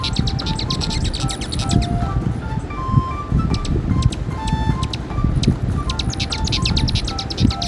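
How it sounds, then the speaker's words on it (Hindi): Hummingbird chirps and thin twittering calls repeat in quick, high bursts over a steady bed of outdoor background noise, continuous throughout and fairly loud. "तो बच्चों आइए हमिंग बर्ड की साउंड जानते हैं।"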